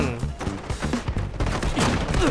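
Pump-action M870 shotgun firing in the Delta Force shooter game: a string of sharp, booming shots at uneven intervals, close and fairly loud, with other battle noise and some voice underneath.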